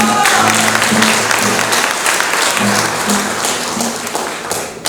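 An audience at a pirekua listening event in Zacán claps continuously for the songs' author, a dense, loud patter that fades slightly toward the end as someone speaks over it.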